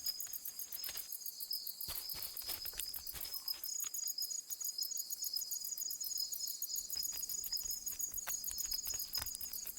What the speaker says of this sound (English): The leaf mantis looks like a dead leaf, but it sounds like an insect.